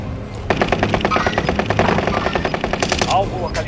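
Rapid automatic gunfire in the video game Warzone, a steady, loud burst of evenly spaced shots lasting about three seconds, followed by a short sweeping tail.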